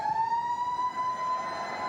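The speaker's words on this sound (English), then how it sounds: "The siren sounds." A steady, sustained siren tone at a 1989 rugby league match, held at one pitch for a couple of seconds, loud and alone with no talking.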